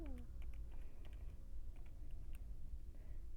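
Numbers tapped into a calculator keypad, a quick series of light plastic clicks at close range over a low hum.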